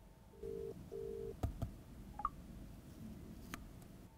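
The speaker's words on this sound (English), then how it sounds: "When we double tap on this, it will proceed to make the call." An iOS phone places an outgoing call: two short electronic tones sound in a quiet room, followed by a few soft clicks and taps.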